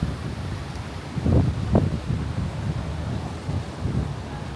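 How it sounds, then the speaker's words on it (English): Strong wind in Cape Town buffets the microphone with low, gusty rumbles that surge and fade over several seconds, with no voices. "The wind is so much, like it is so windy."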